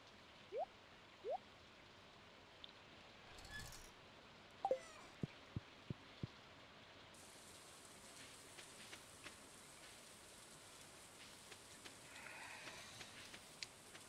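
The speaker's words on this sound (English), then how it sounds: "Outside is dark. It's raining." Steady soft rain patter in Stardew Valley with occasional drips and small knocks, fairly quiet, no voices.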